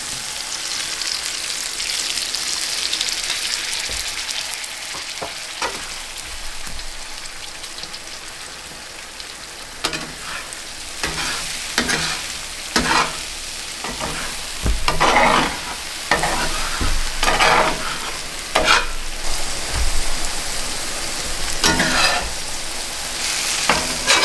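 A steady sizzle of eggs frying in a pan, broken by intermittent scrapes and clicks of a utensil stirring, close up and fairly loud.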